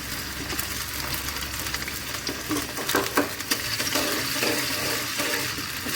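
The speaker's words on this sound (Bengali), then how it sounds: "একটু লাল করে ভেজে নিতে হবে" Chopped onion and garlic fry in white oil for a liver curry, giving a steady close sizzle with scattered crackles and a few louder stirring scrapes partway through.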